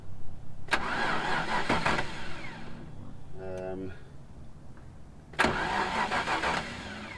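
A Land Rover Discovery with an immobiliser bypass cranks and fires up twice, each start a sharp burst that settles into a running engine, with a brief electronic beeping between attempts.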